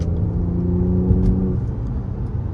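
An Audi A6 on the move gives a faint high turbo whine riding over a steady low engine rumble and road noise, close and constant from inside the cabin.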